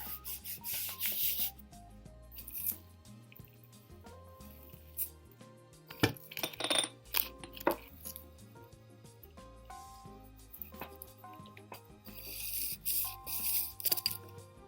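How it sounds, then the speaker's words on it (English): A sheet of paper rubbed over a leaf makes a steady scratchy rasp that swells and fades in strokes, heard close with no one speaking. "I'm just rubbing and rubbing."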